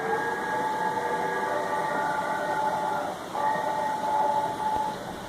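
A train passes with a sustained, tonal horn-like drone and rumbling rail noise, steady and fairly loud, with a brief dip midway before continuing.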